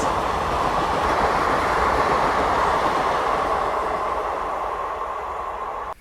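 The Shanti Express passenger train rolls past with a loud, broad rushing roar, sustained for several seconds before cutting off abruptly.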